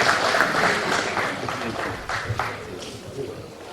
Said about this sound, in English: A round of applause for Pastor Brown Heath